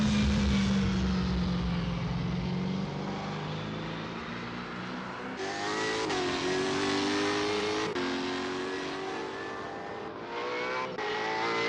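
V8 Supercar engines race around the Adelaide 500 street circuit in Assetto Corsa, a loud, continuous high-revving roar with pitch shifts at gear changes and several sharp upshifts and throttle surges, no talking.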